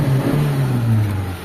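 Mitsubishi Lancer with a 4G13 engine, misfiring and low on power, runs at revs with a rough, uneven low drone that wavers and stumbles, loud and close with no talk.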